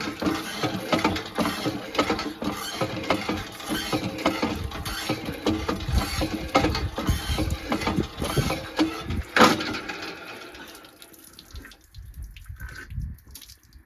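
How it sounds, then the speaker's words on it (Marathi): Village hand pump worked by hand, rhythmic squeaking and clanking of the mechanism with gushing water splashing close by, strokes repeating steadily before tapering off near the end. "पाहू शकता हा आता आमच्या गावातला हापसा."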